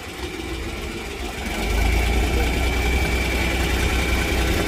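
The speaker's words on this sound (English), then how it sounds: "The tractor sounds good." A tractor engine idles steadily at an estate auction with a low rumbling drone that grows slightly louder and deeper partway through, then holds even.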